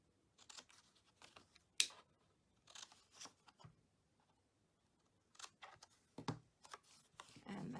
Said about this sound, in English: You're just going to cut the corners off.